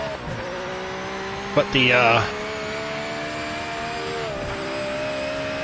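A Japanese GT500 race car engine in a racing game: a steady droning engine hum with harmonic tones, one short high-pitched shift or rev surge midway, and someone talking over it.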